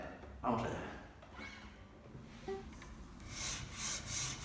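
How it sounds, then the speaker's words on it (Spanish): Bone guitar nut rubbed back and forth on 80-grit sandpaper glued to a flat surface, giving a few close, dry rasping strokes of uneven length, quiet at first and louder hissing passes toward the end. "Lo primero que hago es rebajar el hueso con una lija encolada a una superficie plana"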